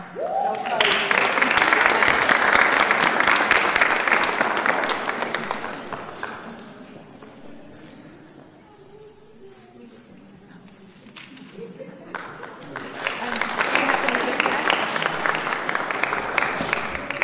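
An awards-ceremony crowd claps loudly for several seconds, dies down to a quieter lull with faint voices, then breaks into a second strong round of applause.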